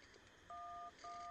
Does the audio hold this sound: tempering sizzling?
no